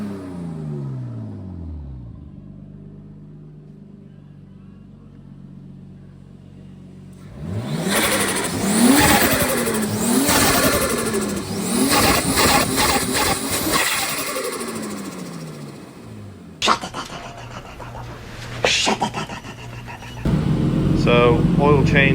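A Nissan R33 Skyline's engine revs as the car pulls out, rising and falling through several throttle blips, with voices talking over parts of it.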